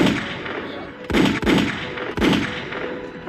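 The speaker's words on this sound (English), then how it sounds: "Rocco, you're a big fan of the gunshot." Three loud, sharp soundboard gunshot effects in quick succession, each with a booming echo tail, cutting over a quieter background.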